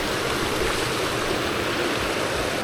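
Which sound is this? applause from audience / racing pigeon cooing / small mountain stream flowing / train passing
small mountain stream flowing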